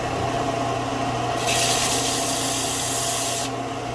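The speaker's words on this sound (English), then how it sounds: "All right, let's sand." A wooden block being sanded by hand, heard as a continuous close rubbing and scraping hiss that grows brighter and louder in the middle, over a low steady hum.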